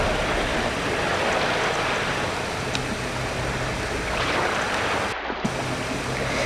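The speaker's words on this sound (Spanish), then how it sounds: "el primer escalón golpeado por las olas" Sea waves strike the first rock steps of the Papa Luna stairway at Peñíscola, a close, continuous wash of surf with repeated surging splashes and no voices.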